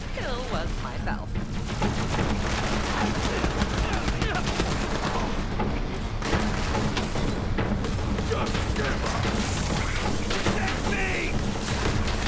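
Enemy gunfire in the game Borderlands 3 crackles in steady bursts throughout, mixed with game sounds and a voice talking over it.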